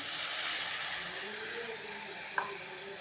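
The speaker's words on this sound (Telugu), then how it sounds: "పెసరపప్పు వేస్తున్నాను" Moong dal going into a hot pan in a home kitchen, with a steady frying sizzle and hiss throughout and one brief faint clink near the end.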